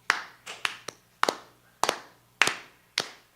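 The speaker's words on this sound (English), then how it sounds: "So I need you guys to clap." Members of a church congregation clap their hands in a slow, steady rhythm, about a dozen sharp, fairly close claps in loose pairs, with no talking between them.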